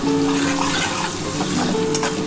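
Spices with Kashmiri chili powder fry in a pan for a potato and mutton kasha, a loud, steady sizzle with stirring and scraping and no talk.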